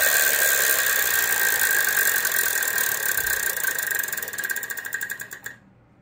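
A Wheel of Fortune game show wheel spins on a studio set, its pegs clicking rapidly past the pointer in a steady ratchet that slows and spaces out before stopping, loud and alone.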